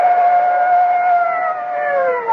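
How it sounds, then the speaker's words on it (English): Police sirens from two patrol cars speeding through the night, a loud sustained wail with layered tones that slowly bend downward in pitch as the cars pass. Used as a radio drama sound effect, with no talk over it. "the blare of police sirens as two patrol cars come hurtling out of the night"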